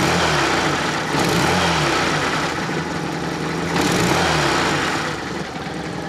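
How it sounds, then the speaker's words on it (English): Cold Fiat Panda 4x4 Sisley engine running without choke, a close, steady mid-pitched idle that rises in two brief revs and stumbles slightly between them. "it's still cold, so. And I am running it without the choke."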